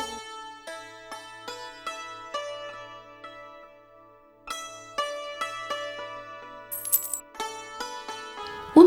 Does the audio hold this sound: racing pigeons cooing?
no